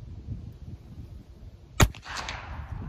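A Marlin 1894 Cowboy Classic lever-action rifle firing a single .45 Colt round outdoors, one sharp crack followed by a brief echo over a soft windy background, no speech.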